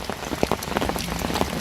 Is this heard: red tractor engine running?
no